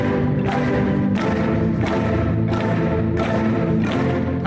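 A huge ensemble of 1,276 marimbas plays together, a dense, resonant wash of wooden tones swelling in steady repeating waves, loud and continuous.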